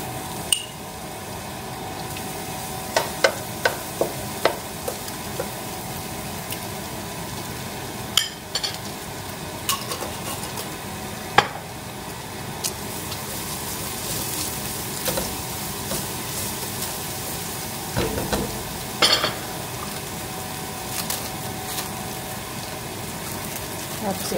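Garlic sizzles in a pan for chicken pastil with a continuous close hiss, broken by intermittent clinks and scrapes as it is stirred.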